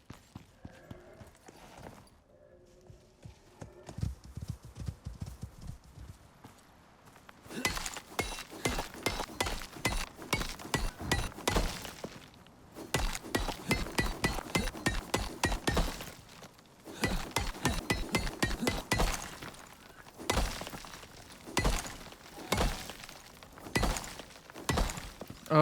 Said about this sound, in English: It sounds like our horse is getting attacked.